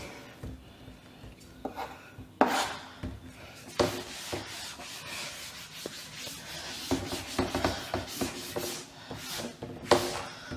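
Writing being rubbed off a board by hand, a steady scratchy wiping and scrubbing with uneven strokes and occasional louder swipes, close and unaccompanied by speech.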